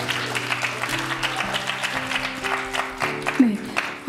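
Scattered clapping from a church congregation at an evening worship gathering, modest and uneven under steady live music and a speaking voice, never rising to a full ovation.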